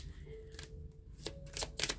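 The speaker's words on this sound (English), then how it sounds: "And I think I might pull a few career cards." Tarot cards drawn one at a time from a deck, giving short papery snaps and slides in brief separate bursts, close and fairly quiet over a low room hum.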